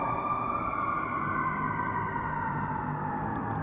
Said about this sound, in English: quite a lot of sirens happening right now